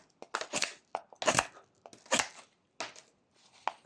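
A knife whittling wood makes sweeping rough cuts while carving a small 1x1 raccoon figure, heard as a string of sharp, scraping shaves in uneven bursts, close and clear with short silent pauses between strokes.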